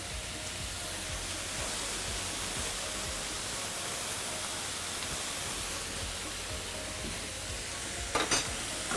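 Beef liver with fresh thyme sizzles steadily in a hot frying pan, a dense continuous hiss with soft stirring scrapes, ending in a few brief clinks of utensil against pan.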